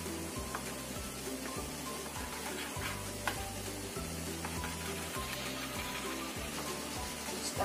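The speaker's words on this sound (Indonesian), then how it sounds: "Kita aduk rata lagi ya, sampai semuanya tercampur sambil menghilangkan ini gelembung-gelembungnya ini ya." Apem cake batter is stirred by hand, without a mixer, to blend it smoothly and knock out the bubbles. A soft, steady, wet swishing and scraping continues throughout at low volume over a faint background hum, with no voices.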